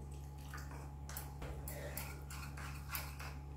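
A spoon stirring and dissolving about one and a half spoonfuls of custard powder in a bowl, with soft, faint clinks and scrapes against the bowl repeating over a steady low hum.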